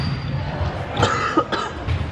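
Several coughs break out in a room during a day of volleyball among friends, a few short harsh bursts spread over two seconds against steady background noise, with no talk over them.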